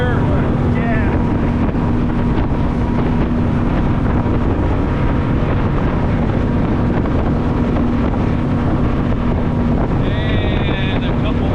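Boat motoring across open water toward the Dry Tortugas, its engine a steady continuous drone with wind buffeting the microphone throughout, and brief chirpy sounds near the start and end.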